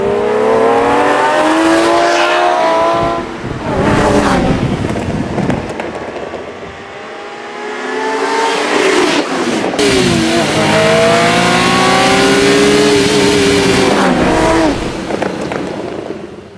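A 1985 Ferrari Testarossa engine roars past twice, pitch climbing as it revs and accelerates, loud and close with brief dips between passes.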